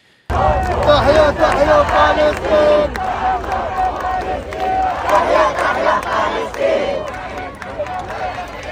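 Large crowd protesting outside the TF1 tower, a loud continuous swell of shouting and chanting voices.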